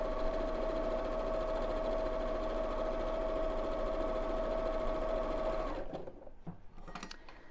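A sewing machine stitches fabric at a small stitch length, a loud, steady motor hum with rapid needle clatter running evenly for several seconds before it stops, leaving a few faint clicks and handling noises.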